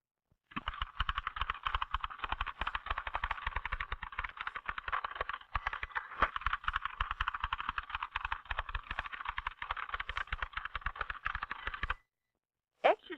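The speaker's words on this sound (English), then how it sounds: "the person is typing as fast as he or she can" Rapid, continuous keystrokes on a vintage manual typewriter, a dense unbroken clatter of strikes for about twelve seconds, then a brief pause and a couple of final clacks, recorded close.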